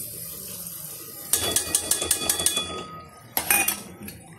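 A spoon stirs khichadi with spices in a metal pot, making a run of rapid, bright scraping clinks, then a second short burst, close and clear over a faint hiss.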